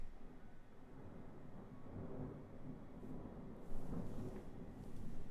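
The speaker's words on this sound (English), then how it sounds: "That was a massive clap of thunder." Thunder from a storm outside an open window rumbles faintly and distantly, a low swelling roll that builds toward the end, with no voices.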